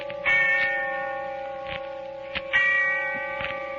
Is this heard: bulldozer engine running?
no